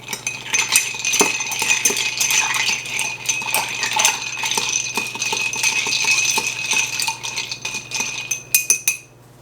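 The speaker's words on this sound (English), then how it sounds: "Now give it a stir." Ice rattles and clinks continuously against glass as a rum and tequila Old Fashioned cocktail is stirred, a steady jangling churn that ends in a few louder knocks.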